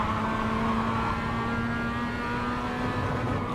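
A Mazda MX-5 in the iRacing simulator drives with a steady engine drone, building power in second gear after a downshift, a continuous mid-pitched hum with no talk.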